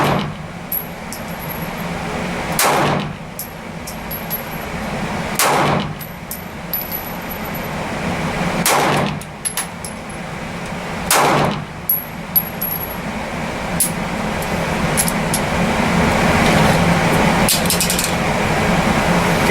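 Handgun shots fired at a police shield shoot outdoors, four loud sharp reports spaced a few seconds apart over steady background noise.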